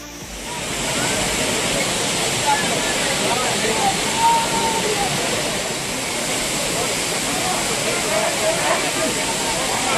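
The Courtallam waterfall roars as a broad, steady rush of falling water that holds constant throughout, loud and close, while voices murmur faintly beneath it.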